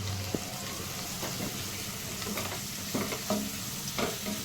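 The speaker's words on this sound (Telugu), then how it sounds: "ఇప్పుడు దీంట్లో పసుపు, ఒక 1/2 చెంచా పసుపు వేసేసుకొని సరి కలుపుకుందాం" Turmeric being stirred into a frying onion mixture for chicken fry, a steady soft sizzle with a few light spoon scrapes and taps against the pan, close but fairly quiet, no voices.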